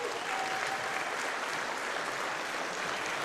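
Spectators at a wallball championship clap as a player leaves the court during a timeout, a steady, dense round of applause from an indoor crowd, moderately loud and slightly distant, with no speech over it.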